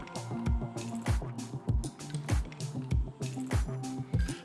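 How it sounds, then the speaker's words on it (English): Seasoned chicken being mixed with garlic powder and salt, producing rhythmic wet squelching and slapping sounds repeating roughly twice a second, close and fairly loud with no talk. "Gonna hit it with the rest of the garlic powder. We're gonna give it a nice mix."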